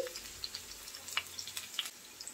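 Onion fried to a light red in a pan for pabda fish curry crackles softly, with scattered small pops and a faint sizzle.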